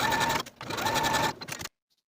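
A sewing machine runs in two fast, steady bursts with a short pause between, stitching a 5/8 inch garment seam with backstitching, loud and close before stopping into silence.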